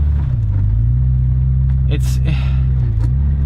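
A stock, all-original 1972 BMW 3.0 CS drives with a steady, close low engine drone and road rumble, the pitch shifting slightly as it moves, while a person talks over it.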